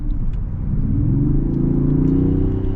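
A 2023 Range Rover's engine rumbles low and then rises steadily in pitch as it accelerates, heard up close with a continuous heavy drone.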